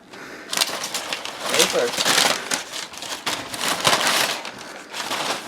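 Packing paper crinkles and rustles in a run of close, loud bursts as it is pulled from a large mystery box during an unboxing, with people talking over it.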